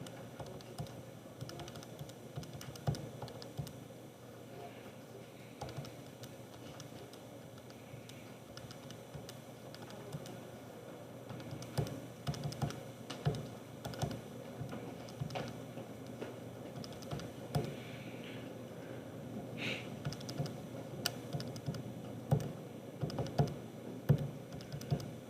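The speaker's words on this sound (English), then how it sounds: "Just typing in all the numbers on page 45." Numbers being entered on a computer keyboard: a steady, fairly quiet stream of key clicks and taps runs through the whole stretch, with a few louder strikes, and no talking.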